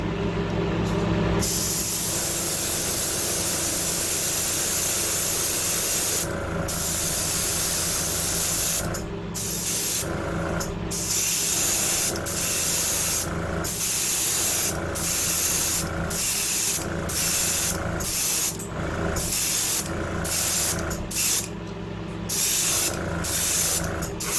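Continuous hiss of an airbrush spraying pearl white paint onto a fishing lure, close and steady, broken by short pauses as the trigger is released and pressed again.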